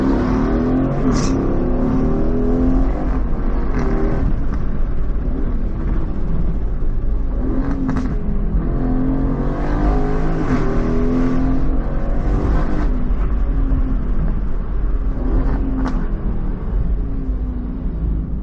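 An Aston Martin Vantage F1 Edition engine revs up and down repeatedly, rising and falling in pitch, with a constant low rumble underneath as it brakes between bursts.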